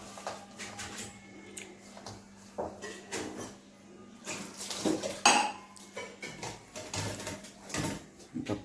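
Pots, dishes and cutlery clink and clatter in a home kitchen during cooking, a string of scattered light metallic knocks and scrapes at moderate distance over a faint steady hum.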